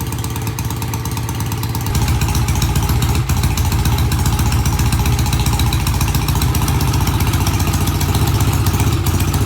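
A vintage British motorcycle engine idles steadily after restoration, a loud, close, rhythmic mid-pitched thumping that picks up slightly after the first two seconds and runs evenly with no voices.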